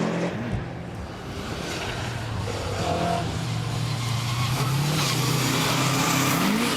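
A Subaru Impreza rally car runs a tarmac stage at the Millbrook National Stages Rally, its engine revving close and loud with rising and falling pitch through gear changes, plus a touch of tyre noise.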